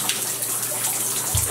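Steady water from a shower spraying indoors, a continuous broadband hiss with a brief low thump near the end.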